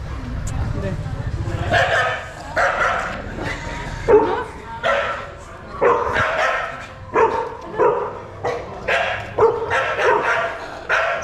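A dog barks over and over in short, loud bursts at a veterinary clinic in Tinsukia, with steady hum and voices murmuring in the background.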